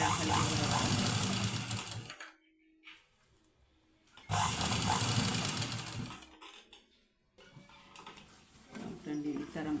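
A sewing machine stitches wide lace onto a round-neck blouse in two fast, whirring runs of a few seconds each, separated by quieter pauses, with a person talking.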